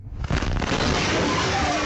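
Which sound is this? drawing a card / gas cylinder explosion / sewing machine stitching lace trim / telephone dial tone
gas cylinder explosion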